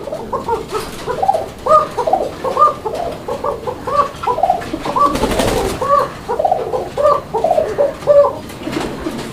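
Pigeons at a market pen coo in repeated rhythmic throaty phrases close up, several birds overlapping, with a brief rustling burst partway through.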